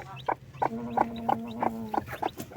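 Chickens and chicks clucking close by in repeated short bursts, with a sustained higher peep from a chick running underneath, no talking.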